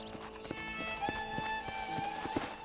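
A horse trots in the Western game Red Dead Redemption, with steady clip-clop hoofbeats at an even rhythm under a sustained tonal music or ambient drone, no talk.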